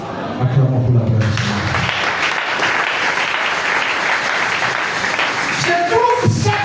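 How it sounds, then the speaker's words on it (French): An evangelical church congregation at a Sunday service breaks into sustained, loud applause that swells quickly and holds steady, with a voice briefly heard before the clapping takes over. "Acclamons pour la gloire."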